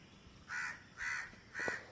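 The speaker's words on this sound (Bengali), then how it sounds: "কাক" A crow near a neem tree in Jessore gives three harsh caws at an even pace, moderately close but fairly quiet, against a low background hum.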